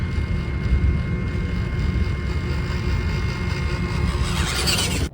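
Small WPL C54-1 electric RC truck motor whining at near full throttle while climbing a slope, a continuous droning buzz with rough ground rumble, heard alone and fairly loud for several seconds.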